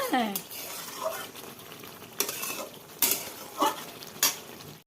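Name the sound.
meat being sautéed and stirred in a pan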